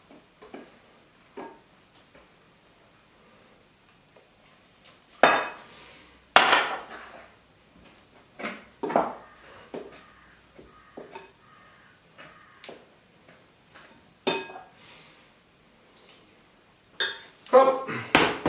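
A fork working bread dough in a bowl, with irregular clinks and scrapes against the bowl, some louder knocks spaced through the stretch, set against a quiet background.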